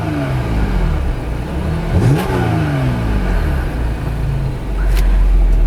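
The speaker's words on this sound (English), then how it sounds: "And this engine does sound good." A 2015 Audi S5 Sportback V6 engine turns over and fires up, then revs in rising sweeps, dropping back to a smooth idle before another blip near the end.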